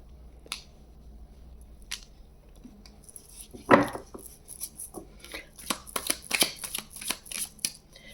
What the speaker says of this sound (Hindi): 6 मंथ की पहले कार्ड्स निकालते हैं आपके लिए